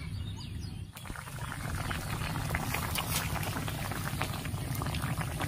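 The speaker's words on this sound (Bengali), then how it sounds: "দেখুন বন্ধুরা তরকারিটা ফুটে গেছে" Thin curry with papaya and green banana bubbling at a boil in a pan, a dense close crackle of popping bubbles that holds steady throughout, with faint birdsong in the background.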